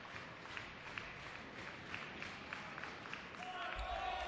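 Cricket crowd cheering and clapping at an under-19 boys' World Cup match between overs, a broad steady wash of applause and distant voices that swells louder near the end.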